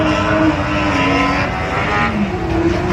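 Speedway motorcycles race down the back straight in a continuous, loud engine roar that holds steady and close throughout, with no talk over it.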